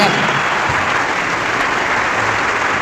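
Steady, loud applause from a crowd, dense clapping filling the whole stretch without a break.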